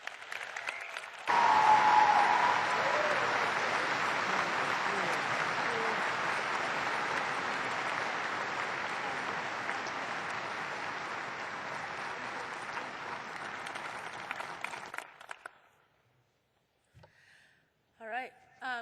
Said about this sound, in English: Let's all give a round of applause for Dr.